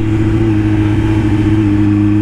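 A Kawasaki Z900 motorcycle engine pulls hard under acceleration, a loud, close, sustained drone with steady tones and no break, heard on its own.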